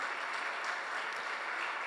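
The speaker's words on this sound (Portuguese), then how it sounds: "Vamos aplaudir a Jesus." Steady applause from a church congregation fills the space for about two seconds, fairly quiet and even, with no voices over it.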